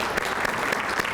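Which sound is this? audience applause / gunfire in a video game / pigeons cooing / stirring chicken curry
audience applause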